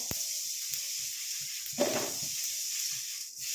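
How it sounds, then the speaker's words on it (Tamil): Curry leaves frying in a pan, a faint continuous hiss with a brief louder crackling burst midway and a sharp click at the start. "இப்போ இது 3ஐயும் நல்லா நம்ம ஃப்ரை பண்ணி எடுக்க போகிறோம்."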